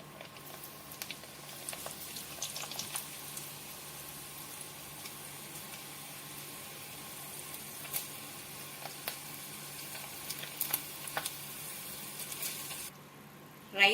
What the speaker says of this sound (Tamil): கொஞ்சம் கொஞ்சமாக பொரிச்சு எடுத்துக்கலாம். இப்போ ஜவ்வரிசி பொடிச்சு எடுத்துடலாம்.